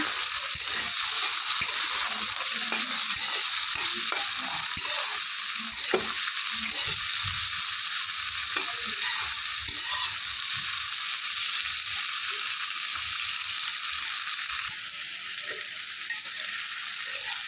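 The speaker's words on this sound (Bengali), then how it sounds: "সবজিগুলোকে সাইড করে রেখে এখানে আমি ডিমটা ভেজে নেব।" Steady loud sizzling of an egg frying in a hot pan beside vegetables for fried rice, with occasional scraping and stirring clatters throughout.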